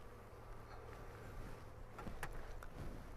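Honey bees buzz around an open hive during a beginner's inspection, a soft steady drone of many wings close by, with a few faint handling clicks near the end.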